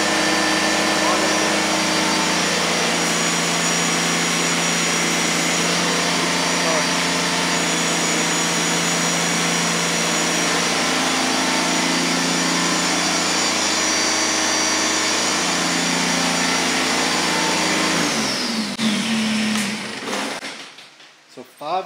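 A small tractor engine, a Kubota BX2380 or John Deere 1025R, runs steadily at wide open throttle with a constant droning hum, loud and close, then cuts off abruptly near the end.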